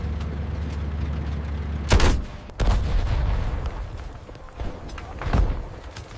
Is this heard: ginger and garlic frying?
no